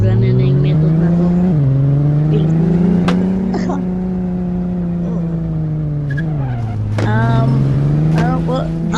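A car engine in a Filipino-played video game, droning steadily with revs rising and falling and occasional tire squeals, continuous throughout while voices talk over it.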